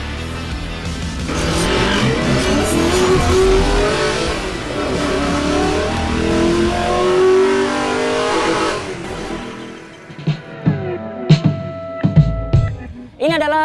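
Loud engine revving and accelerating from a 2020 Toyota Rush TRD Sportivo G manual SUV, rising and falling for about nine seconds before fading into a few sharp knocks and quieter sounds.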